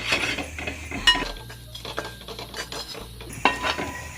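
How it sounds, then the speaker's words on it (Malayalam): A metal spoon scrapes and knocks against a pan while masala with meat masala is sautéed for mutton curry, giving irregular clanks and clinks over a low hum, with no talking. "ഇതെല്ലാം കൂടി നന്നായിട്ട് വഴറ്റിയെടുക്കാം"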